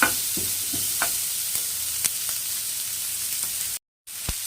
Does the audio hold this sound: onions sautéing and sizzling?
yes